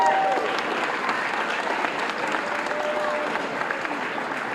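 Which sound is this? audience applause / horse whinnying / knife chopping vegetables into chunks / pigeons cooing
audience applause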